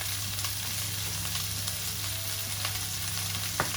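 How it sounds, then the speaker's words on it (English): Onions, peppers and garlic fry in a pan for chilli, giving a continuous close sizzle over a low steady hum, with a couple of faint stirring clicks. "I'm just going to add in our onions and peppers. and our garlic."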